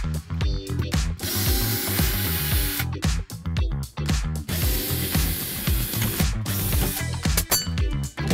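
A power screwdriver works during an RV refrigerator upgrade, giving repeated loud whirring bursts with ratcheting clicks and brief pauses between runs.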